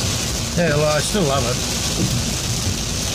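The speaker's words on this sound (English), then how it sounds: "That's the rain on the roof." Steady broadband hiss of heavy rain drumming on a roof, continuous throughout, with someone talking briefly over it.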